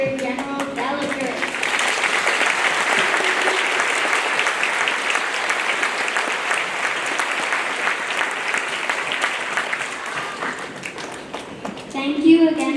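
A school audience gives a sustained round of applause at a Veterans Day celebration, honoring a visiting brigadier general. The clapping is dense and even for about ten seconds, then fades, and a voice speaks near the end.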